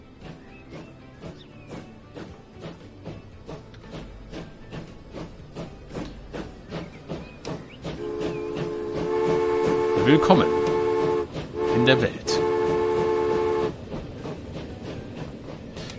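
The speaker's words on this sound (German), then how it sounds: "Wir gucken mal, wie unser erster Zug hier ausfährt." In the railway sim Transport Fever 2, a first train of blue wagons pulls out near Nagoya, a loud rumbling departure with sustained horn-like tones in the latter half, heard under someone talking in German throughout.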